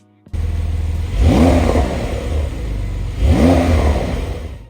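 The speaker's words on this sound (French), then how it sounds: "je vous mets un petit effet sonore pour vous montrer le magnifique bruit de cette Targa" A Porsche 911 992 Targa 4S flat-six engine starts with a sharp catch, then revs up twice, each climbing to a loud, close roar before easing back toward idle.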